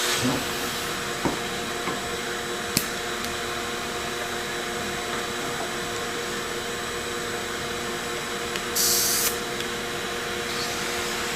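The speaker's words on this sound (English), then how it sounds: "this is a rotary grinder" Rotary grinder running steadily with a continuous whirring hiss at low level, broken by a few faint clicks and a brief louder rush of air near the end.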